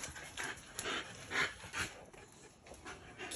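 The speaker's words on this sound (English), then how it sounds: "That's your puppy, Quinn?" An American bully puppy pants close by in quick, rhythmic, fairly soft breaths, with a small whimper-like catch partway through.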